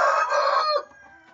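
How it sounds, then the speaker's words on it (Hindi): A buff rooster lets out a single loud crow near the listener, a bright drawn-out call that ends abruptly and leaves a faint tail. "बफ का मुर्गा।"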